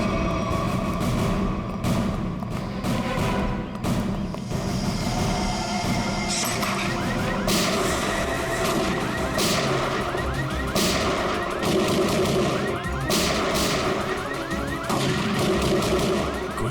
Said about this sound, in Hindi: गोली चला कौन रहा है?